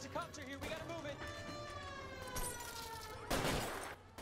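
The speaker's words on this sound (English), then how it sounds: "Oh, they shooting at us." Gunfire in the video game L.A. Noire, bursts of shots mixed with a wailing police siren, while a player talks over the game audio.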